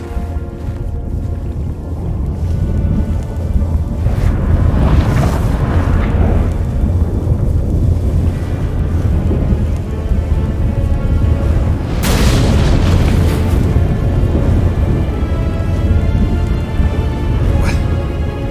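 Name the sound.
thunderstorm, from The Witcher 3 video game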